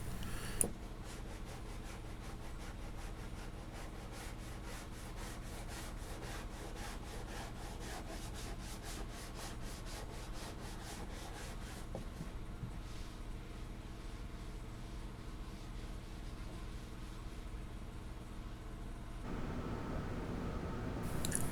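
Steady back-and-forth rasping of sanding blocks on fairing compound on a boat deck, continuous and close, with a brief pause and shift in texture partway through.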